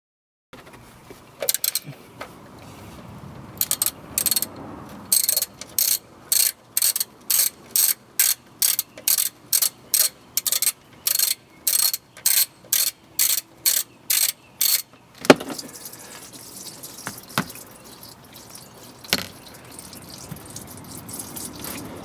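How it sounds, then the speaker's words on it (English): Ratchet wrench tightening the gold-colored oil drain bolt on the oil pan of a sixth-generation V6 Toyota Camry, a long run of sharp, evenly spaced clicks up close, followed by softer handling clatter and a few isolated knocks. "right here I'm torquing the oil drain bolt in."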